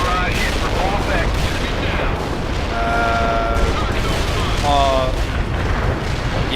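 Continuous rumbling explosions and gunfire of an artillery barrage in the video game World in Conflict, dense and loud throughout with overlapping booms, radio-style voices talking over the battle.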